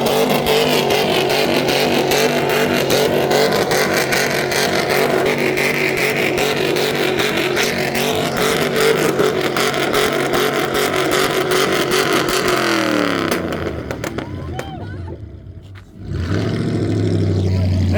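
At a car meet, a car slides and its engine revs and roars loudly and continuously, close by, before the sound dips briefly near the end. Crowd voices can be heard faintly underneath.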